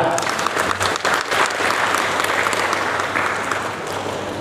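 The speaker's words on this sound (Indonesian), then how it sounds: "Tepuk tangan yang meriah." Loud, sustained audience applause fills a hall after a song at a spiritual talk, dense clapping with a crowd's murmur beneath it, holding steady for several seconds before easing slightly.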